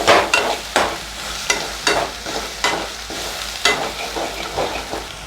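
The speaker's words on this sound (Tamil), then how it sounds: "மல்லித்தூள், கரம் மசாலா எல்லாத்தையும் சேர்த்து வதக்கிக்கோங்க." Coriander powder and garam masala, with chilli powder, sauté in a pan for prawn gravy, a steady sizzle broken by repeated rhythmic scrapes of a spatula about every half second, loud and close with no speech.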